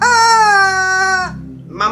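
A rubber rooster dog toy lets out a loud, long, strained squawk close up, then a second squawk begins.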